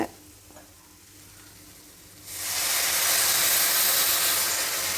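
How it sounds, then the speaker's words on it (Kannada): A loud, steady sizzle bursts up midway as water hits a hot pan of cooking chilli sabji, following a quieter stretch, then keeps hissing strongly to the end. "ಈಗ ನೀರು ಹಾಕೋಣ"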